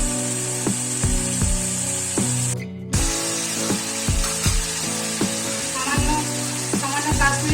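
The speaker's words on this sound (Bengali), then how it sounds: "মশলাটাকে খুব ভালো করে কষিয়ে নেব" Bengali spice paste of ground coriander, cumin, turmeric, salt, Kashmiri red chilli and garam masala fries steadily in a pan for a pumpkin dhoka curry, a continuous hissing sizzle beneath rhythmic background music, with one brief drop-out midway.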